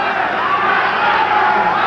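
Spectators at a 1983 USA vs Ireland amateur boxing match shout at the referee, a dense, loud, continuous crowd roar filling the arena without pause.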